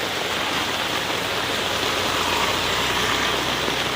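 Floodwater rushing along a road in heavy rain, a dense unbroken hiss and roar of water and rainfall, steady and loud from start to finish with no voices.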